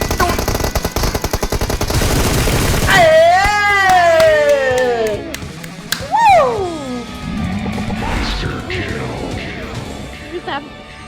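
Rapid automatic gunfire rings out from a moving vehicle in the mobile battle-royale game PUBG Mobile, with dense bursts of shots and impacts over whistling, sweeping effects while excited voices shout throughout.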